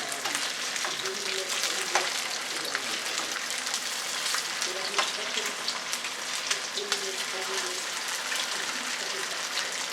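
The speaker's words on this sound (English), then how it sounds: "The last 4 are frying up." Eel cakes frying in a pan give a steady, crackling sizzle of hot oil with scattered pops, close and continuous throughout.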